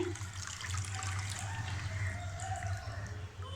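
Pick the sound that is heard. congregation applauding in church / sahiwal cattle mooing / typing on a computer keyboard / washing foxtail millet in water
washing foxtail millet in water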